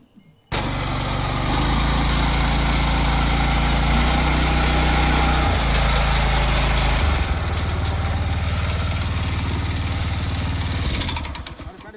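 A 7-inch power weeder's small engine starts abruptly and settles into a loud, close, rumbling run with a chugging idle, its pitch shifting partway through before it cuts out at the end.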